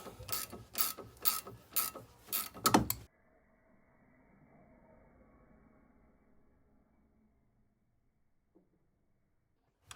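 A ratchet wrench clicks in about six quick rhythmic bursts while snugging down a sway bar end link nut, followed by near silence and a faint tap.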